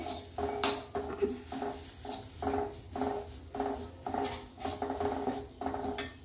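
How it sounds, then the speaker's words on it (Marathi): Turmeric and red chili powder stirred in a pan, a spoon scraping and clinking against the metal in a slow regular rhythm, close and quiet with no talk. "मसाले चांगले परतून घेऊ"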